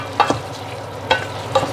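Mustard greens cook in a pan with a soft steady sizzle, broken by three short scraping stirs spaced unevenly.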